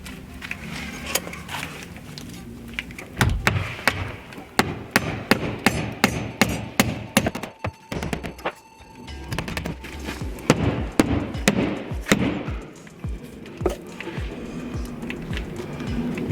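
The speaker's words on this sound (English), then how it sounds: "You see we're banging there to try and find our studs." Hammer banging against a wall to locate the studs while laying Indiana limestone, a rapid series of sharp, loud knocks in irregular bursts, close up and with no talking.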